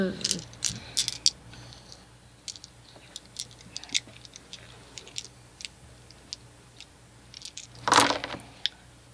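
Dice rolled during a tabletop game session, a scatter of small clicks and rattles across nearly ten seconds, with a louder clatter near the end, heard over a faint background hum.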